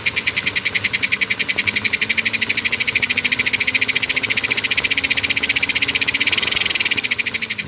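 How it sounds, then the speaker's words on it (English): A rebuilt classic Flyer metal smoke assembly with a Next Gen S heat clip running on low DC power, giving a steady, rapid rhythmic chuffing pulse with a hissy, insect-like texture, continuous and fairly loud throughout. "There's the chuff sound."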